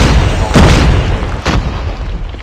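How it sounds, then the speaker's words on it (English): Grenade explosion in the mobile shooter game Call of Duty Mobile: two loud booming blasts about a second apart over a constant din of game noise and gunfire. "Watch out, grenade!"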